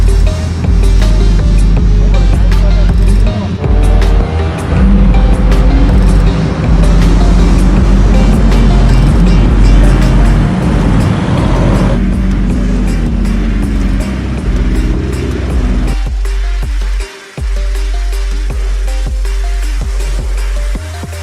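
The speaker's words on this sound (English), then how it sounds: "And here's the DB11 I'm driving." An Aston Martin DB11 driving through a city at night among a lineup of supercars, loud sustained engine drone and road roar that shifts pitch as it accelerates, cutting briefly near the end.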